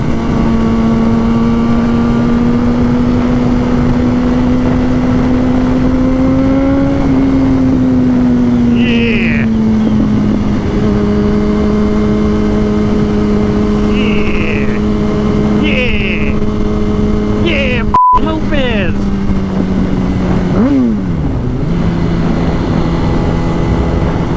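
A 2006 Yamaha R1 sport bike engine drones loudly and continuously, its pitch climbing and then dropping at gear shifts, with heavy wind rush throughout and a voice talking at times.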